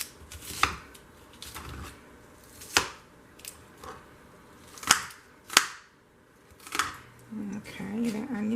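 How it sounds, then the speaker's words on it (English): A knife chops onions on a cutting board in sharp, separate thwacks, about eight irregular strikes close by, with a low voice murmuring near the end. "the onions chopped"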